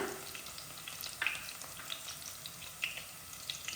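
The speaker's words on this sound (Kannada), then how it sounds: "ಸೇರಿಸ್ಕೊಂಡ್ಬಿಟ್ಟು 1-2 ನಿಮಿಷ ಚೆನ್ನಾಗಿ ಫ್ರೈ ಮಾಡೋಣ." Chopped green chillies fry in a pan for a chicken curry, giving a quiet, steady sizzle with a few soft clicks and light scrapes scattered through it. No one speaks.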